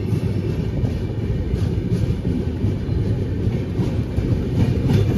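The Duronto Express, heading out from Howrah, rumbles along its rails with a loud, continuous roar and a faint rhythmic clatter of wheels, heard from inside the coach.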